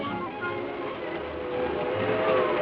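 A 1950 passenger train rolls steadily along the rails, its rumble continuous and fairly loud, with faint rhythmic wheel clicks under the steady roar and no voices.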